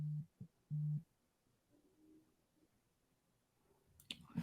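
Two short, steady electronic tones sound in quick succession, like a call-waiting beep cutting into a voicemail, followed by quiet and a brief clatter near the end.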